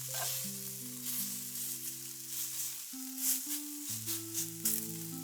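Buffalo kofta frying in an oiled pan, a steady close sizzle running throughout with soft crackles, partly underlaid by sustained musical tones.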